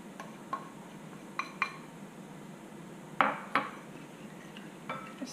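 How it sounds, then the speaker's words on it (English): Spoon stirring cloves, allspice, salt, ginger and nutmeg into a pumpkin spice granola mixture in a bowl, a handful of sparse clinks and taps against the bowl over a quiet, soft scraping background. "Stir that in to make sure it gets incorporated."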